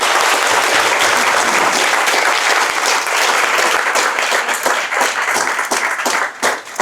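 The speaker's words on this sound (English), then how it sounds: "let's give another round of applause for the panel." Sustained applause from the audience at a tech-industry panel event on AI and government, dense steady clapping that fills the room at full strength before thinning into scattered claps at the end.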